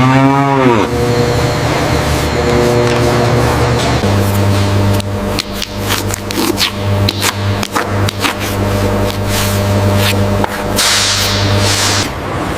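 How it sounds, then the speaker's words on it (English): Cattle in clean holding pens at a leather factory low repeatedly, loud close moos layered over a steady mechanical hum, with sharp clacks and knocks from the facility machinery throughout. "Clean holding pens with water access, cattle resting calmly before processing"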